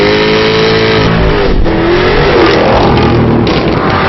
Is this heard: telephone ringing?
no